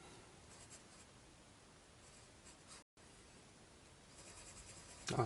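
A pen scratches steadily across paper in quiet handwriting, faint and close, with a short pause partway and a slightly louder stroke at the end.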